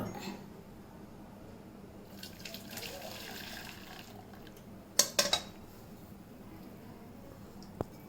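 Melted jaggery syrup for peanut chikki is poured through a strainer with a low, steady trickle, followed by a few sharp clinks of metal utensils near the end.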